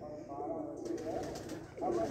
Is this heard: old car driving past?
no